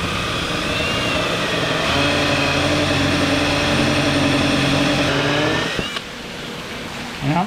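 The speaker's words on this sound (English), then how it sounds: "Let's drill these three." A power drill fitted with a step drill bit bores holes into the wood of a homemade plant stand. The motor whines steadily and loudly for several seconds, then cuts off, with no one speaking.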